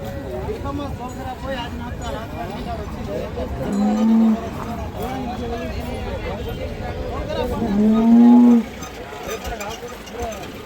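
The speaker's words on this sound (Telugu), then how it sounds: "ఈ ఆవులు అయితే చూడండి ఒకసారి, లైన్ ఉన్నాయి." Cows low loudly and close by twice at the Sardar Nagar cattle market, each call a long drawn moo over constant crowd chatter and voices.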